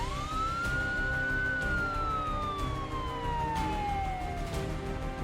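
A police siren wails in one long sweep, climbing quickly and then sliding slowly downward, loud and steady over a dense background rumble with no voices.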